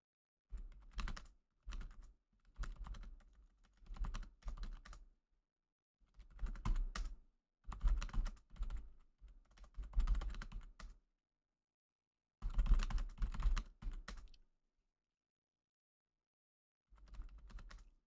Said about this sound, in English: Dag, type in ASMR